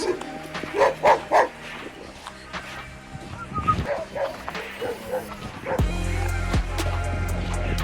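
Dogs on a rural village walk bark and yip in short bursts near the start, then whimper and yap intermittently while someone talks over them, with wind buffeting the microphone toward the end.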